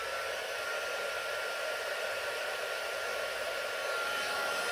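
A heat embossing tool blows hot air over embossed silver tin, a steady close whooshing whir that runs unbroken throughout with no talking.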